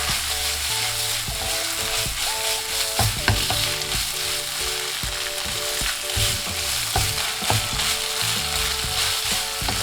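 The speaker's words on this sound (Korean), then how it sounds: "자 이렇게 된장이 볶아지면 같이 섞어주세요" Doenjang soybean paste stir-fries in a pot for a beef-optional yukgaejang, a steady sizzle running throughout beneath repeated scraping and mixing strokes.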